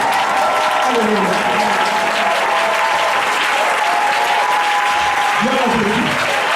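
A church congregation claps and cheers during a sermon, dense sustained applause filling the space while a preacher's voice carries over it.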